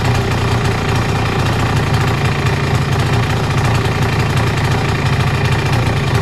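A 90cc ETon engine idling steadily and loudly at close range, a continuous even rumble with a fast regular knock-like pulse and no talk over it.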